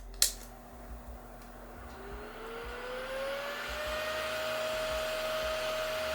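A camera's built-in cooling fan at full tilt whirs loudly and steadily, its pitch rising as it spins up and then holding a constant high whine.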